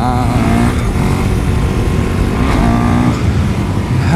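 A KTM Duke motorcycle roars continuously while riding a wheelie, its engine note shifting in pitch as it downshifts, loud and close with wind rush throughout.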